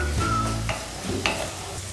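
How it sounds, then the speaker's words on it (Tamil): Ginger garlic paste sizzling in a pan for an egg gravy, a close continuous fry with a couple of brief spatula scrapes, low steady hum underneath and no one speaking. "இப்போ இது பச்சை வாசனை போகிற வரைக்கும் வதக்கிக்கலாம்."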